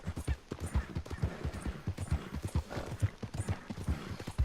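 Horse hooves gallop at speed in Red Dead Redemption 2, a quick, rhythmic clip-clop of heavy footfalls that carries on steadily and fairly close, with no talk.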